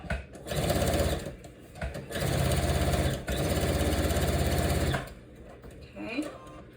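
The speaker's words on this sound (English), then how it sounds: "I'm lining this up along the edge of the presser foot, the back of the presser foot right here." Sewing machine stitching the lining of a lined zipper pouch, running in steady loud bursts with short pauses between, close by, with a person talking quietly during the gaps.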